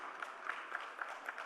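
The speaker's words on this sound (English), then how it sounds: "Can we have a round of applause" Audience applause at the India Today Conclave, a faint, distant steady patter of clapping with a slight pulsing rhythm.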